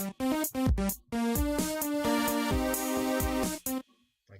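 Programmed FL Studio drum loop with punchy kick and snare hits, ticking hi-hat and a ringing ride cymbal, layered over a tonal sustained pattern, played alone with no talking.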